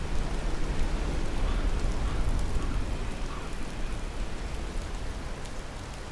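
Steady rain falls in the Hunting Simulator game on PS4, a dense, even hiss of rain on surfaces with no breaks, fairly loud and continuous, with no voices.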